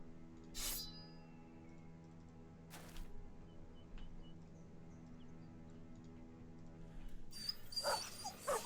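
A dog in the video game Battle Brothers gives a few sharp yelps and barks spaced apart over a quiet hum of background ambience, ending in a louder burst of noise.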